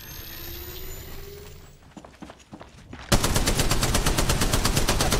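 Automatic weapon fire in the Apex Legends Mobile video game: scattered shots build up, then a loud, rapid, sustained burst of gunfire fills the second half, close and continuous.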